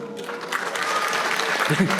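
Audience clapping at a Korean public address about the economy, a dense burst of applause with voices mixed in underneath, ending as a voice cuts in near the close.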